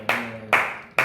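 Three sharp, close hand claps land at an even, steady pace, each ringing briefly before the next, with nothing else heard.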